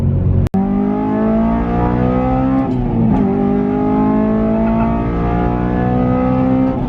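A supercharged Honda Civic Si with an aftermarket exhaust revs continuously from inside the car, a loud droning engine note climbing steadily with a brief shift near the middle.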